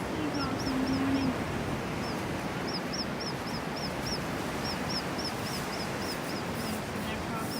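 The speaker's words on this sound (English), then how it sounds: "Seagulls in the morning." Seagulls cry at sunrise on a beachfront rooftop, sharp short calls repeating in quick bursts and pauses across the whole stretch, mid-distance over a steady wash of surf and wind, with a brief low voice near the start.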